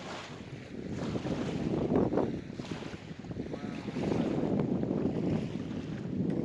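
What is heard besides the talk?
wind and waves on reservoir water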